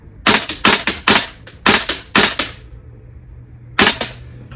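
A VFC V3 gas blowback airsoft rifle fires outdoors in the cold: a rapid string of sharp, loud cracking shots in quick pairs and bursts, a pause, then another short burst.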